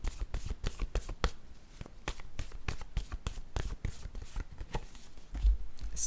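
Playing cards being handled and drawn from a deck, a quick series of crisp close flicks and snaps in uneven rhythm, with a soft low thump near the end.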